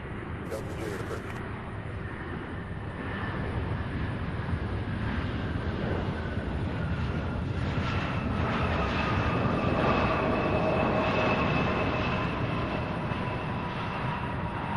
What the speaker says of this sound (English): Beautiful landing by American Airlines there